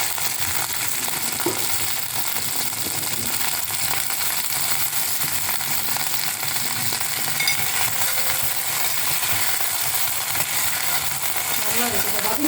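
Vegetables and curry leaves for sambar sautéing in a pan give a loud, steady sizzle with faint stirring scrapes, unbroken from start to finish.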